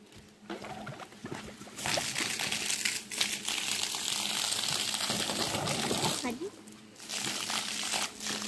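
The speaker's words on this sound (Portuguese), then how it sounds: "caiu uma água suja" Dirty water long left standing in pipes gushes out into a water tank, a steady close splashing and trickling stream with crinkling noise, while people talk nearby.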